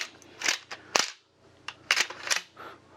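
A pump-action shotgun being worked to unload shells: sharp, close mechanical clacks and metallic snaps of the action cycling, in several quick separate bursts with brief pauses between them.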